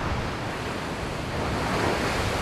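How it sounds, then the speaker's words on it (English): Storm waves pound the shore at Dawlish in Devon during Storm Chandra, a loud, continuous roar of surf mixed with gusting wind noise and no pauses. "Waves smash ashore at Dawlish Town in Devon"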